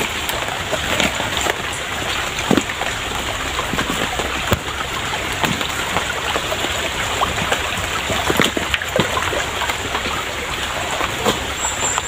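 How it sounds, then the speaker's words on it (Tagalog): Rain falls steadily outdoors, a constant loud hiss with scattered drip and patter sounds and no talking. "Umuulan pa na naman."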